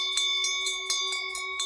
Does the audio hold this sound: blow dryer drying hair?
no